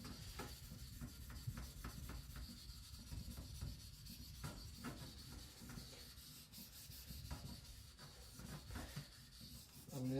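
A knife edge is polished on a 1000 grit whetstone with steady, close scraping strokes that repeat in a quick rhythm, soft and continuous, with no talking.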